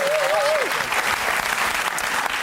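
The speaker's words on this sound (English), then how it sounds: "Ladies and gentlemen, a round of applause for Denise Scott." A television studio audience on a music quiz show applauds warmly and continuously, thick clapping close up, with a short voice or whoop rising above it at the start.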